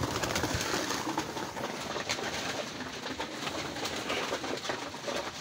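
Racing pigeons coo in a dense, continuous chorus at a loft, with steady flutter and pecking noise from a flock feeding, close and fairly loud throughout.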